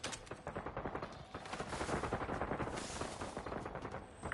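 Continuous automatic gunfire from Warzone rattles in fast, rhythmic bursts throughout, loud and dense with overlapping shots and booming impacts in a chaotic firefight.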